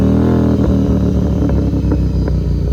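Royal Enfield GT 650 twin engine running loud and close after a performance air filter install, a deep throbbing exhaust note with a series of irregular pops and crackles scattered through it.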